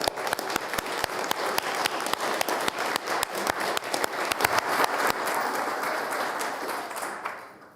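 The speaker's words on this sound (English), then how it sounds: "Give him a round of applause." A Senate chamber fills with dense, steady clapping from a sizeable audience, sustained for several seconds before tapering off at the very end.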